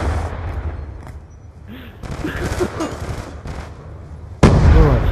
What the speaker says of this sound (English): Oh, I shot somebody in the face.